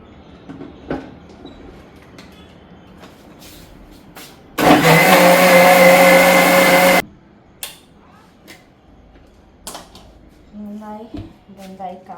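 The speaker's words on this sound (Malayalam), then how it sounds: "അപ്പം ഇതെല്ലാം കൂടി നമുക്ക് നന്നായിട്ട് ബ്ലെൻഡ് ചെയ്തെടുക്കാം" A kitchen blender whirs loudly through a smoothie made with wild honey, a steady roaring burst of about two seconds standing out from quieter household sounds and talk.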